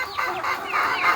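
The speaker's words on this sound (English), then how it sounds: "I got a broiler chicken here that I just" A broiler chicken kept in a backyard coop beside Australorps clucks in a quick series of close, moderately loud calls, rising and falling with no talking.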